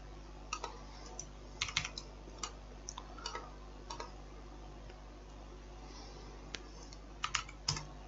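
Someone types code on a computer keyboard, faint scattered clicks and short bursts of keystrokes over a steady low hum, with no talking.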